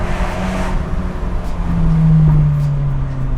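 An Abarth 124 Spider convertible with a 1.4-liter engine idles and revs, a low exhaust burble that swells into a louder, steady drone near the end, close and loud with no talk over it.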